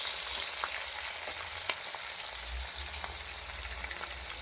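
Tomato and green chillies frying steadily in a pan for a potato-and-paneer curry, a continuous even sizzle with a few small pops and clicks, close and with no talking.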